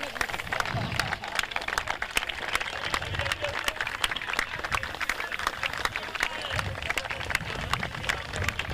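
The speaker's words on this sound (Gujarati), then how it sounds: "એક વખત જોરદાર તાળી." A crowd claps at a night-time prize ceremony for a village cricket premier league final, with dense, continuous applause full of sharp individual claps that stays loud and lively throughout.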